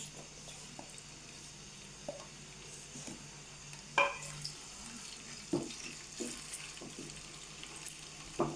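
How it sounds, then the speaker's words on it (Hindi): Quiet, steady frying of crushed garlic in oil with occasional clinks and stirring scrapes from a utensil, close up, no voices. "ये पीसा हुआ लहसुन है, सिर्फ लहसुन, ये थोड़ा सा फ्राई हो जाए।"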